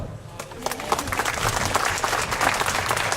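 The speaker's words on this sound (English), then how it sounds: "Can we please have a round of applause for the following sponsors that help make the third annual festival a reality?" A crowd at the third annual Alameda Asian Pacific Islander Cultural Festival claps for the event's sponsors, a thick, loud, sustained burst of applause that swells slightly as it goes on, with some crowd murmur mixed in.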